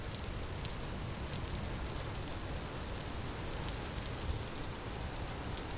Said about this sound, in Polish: A i zaczęło padać.